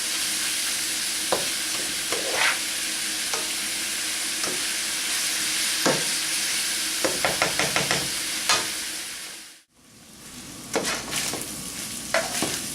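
Italian sausage fries in a pan with a steady broadband sizzle, broken by scattered stirring clicks and scrapes and a brief dip near the end before the frying resumes.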